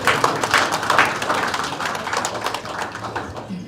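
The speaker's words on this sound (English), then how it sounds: "At least we deserve another round of applause." An audience at a formal presentation on digital development in Nigeria gives a round of applause, scattered clapping that starts fairly strong, thins out and fades toward the end.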